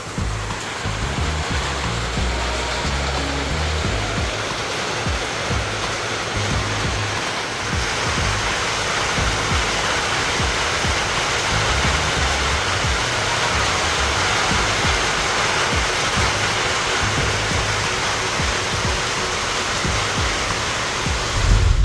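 Heavy rain pours down steadily and loudly in a dense, continuous roar with no pauses, a close downpour that does not let up at any point.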